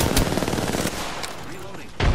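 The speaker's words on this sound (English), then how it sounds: "The enemies are shooting at me." Gunfire from enemies in the battle royale game Apex Legends crackles in dense, continuous bursts, with sharp loud shots near the start and end over a busy background.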